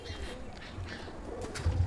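A domestic pigeon coos softly in a low, murmuring rhythm, faint against a quiet background with no voices.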